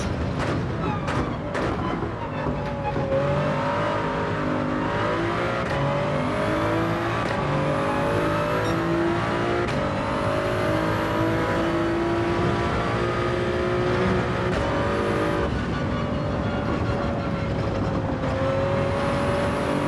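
A Toyota Supra race car engine in Gran Turismo 7 roars continuously, its pitch rising and falling through gear changes and revs as it laps a track at steady volume.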